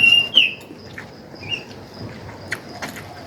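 Faint, scattered bird chirps and short calls against a quiet background hiss, a few brief tweets standing out at intervals.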